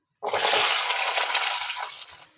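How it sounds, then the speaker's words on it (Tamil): About twenty whole peeled small onions drop into hot oil and burst into a loud, close hiss that holds steady for a couple of seconds, then eases slightly, with no voices. "ஒரு 20 சின்ன வெங்காயம் எடுத்து நான் முழுசா உரிச்சு வச்சிருக்கேன். அது எண்ணெயில வதக்கிடலாம்."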